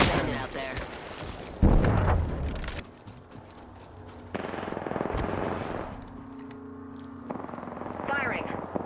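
Automatic weapon fire in the Apex Legends battle royale shooter, bursts of shots with booms and game effects during a firefight, heard in stretches over a busy, layered mix.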